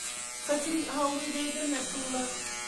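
Electric hair clipper buzzing steadily as a father shaves a young boy's head at home, a close, continuous hum with shifting pitch as it moves over the scalp, while people talk over it.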